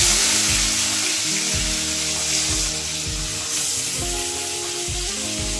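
Hot oil sizzles steadily while marinated chicken cooks in a pan, a loud close frying hiss with rhythmic low scraping thumps of stirring through it and no talk.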